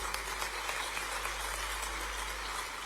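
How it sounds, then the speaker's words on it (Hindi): Faint, distant applause from an audience at a state sports awards ceremony in Bhopal. It forms a steady, rain-like patter of many hands that holds evenly throughout, with no voices on top. "ये ताली किसके लिए बजाई?"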